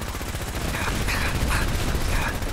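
Laser rifle fire in a video game: a dense, continuous barrage of rapid shots with a few brighter zapping bursts standing out, loud and steady for the whole stretch.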